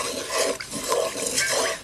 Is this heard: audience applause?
no